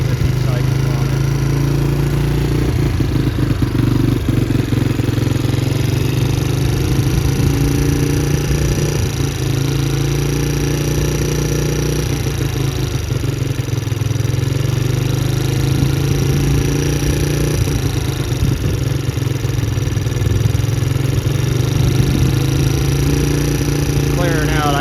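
A motorcycle engine, just repaired after a valve fault and eight years parked with no compression, runs steadily near the microphone with slight rises in revs, while someone talks over it throughout.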